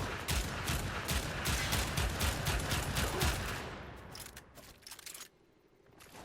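Rapid bursts from the Pyrana Prime shotgun-type weapon in Warframe hitting an enemy, with repeated closely spaced shots that are loud at first and then thin out into a few separate shots before stopping.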